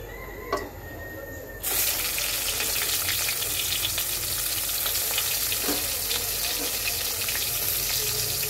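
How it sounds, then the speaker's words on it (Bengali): Shrimp coated in salt and turmeric fry in hot oil in a wok, a loud steady crackling sizzle that bursts up after a quieter start and holds throughout, with no talking. "এখন মাছগুলো ভেজে নেব"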